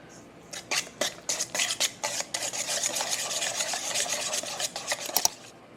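A utensil stirs and scrapes through ingredients for homemade ranch dressing in a bowl, first in quick separate rasping strokes and then in a denser continuous rubbing, close up with no speech.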